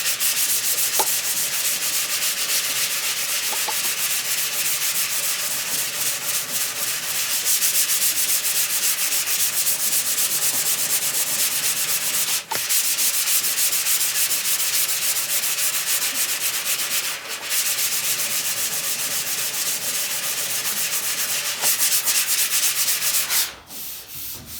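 Long, steady strokes of a sanding block rasp over primer on a 1968 Camaro body, a dense continuous scratching hiss that runs for over twenty seconds with only brief pauses and shifts in stroke.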